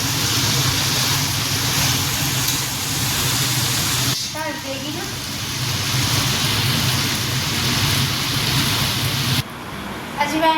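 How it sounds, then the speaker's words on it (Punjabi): Steady rain hiss fills the scene, a broad wash of falling water with a brief break midway and a low rumble underneath. "ਬਾਰਿਸ਼ ਫੇਰ ਸ਼ੁਰੂ ਹੋ ਗਈ ਹੈ"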